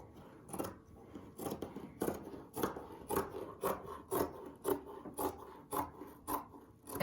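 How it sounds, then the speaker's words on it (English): Scissors snip through fabric, cutting it into long strips for a children's rag rug, with repeated crisp cuts in a steady rhythm of about two per second, close and clear with no talking. "how you can cut and make them into long strips"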